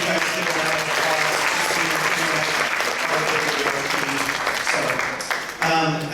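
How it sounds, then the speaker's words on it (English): An audience at a caregiver summit applauds steadily for several seconds with dense, full clapping, then dips briefly and swells again at the end. "Can you guys give a round of applause"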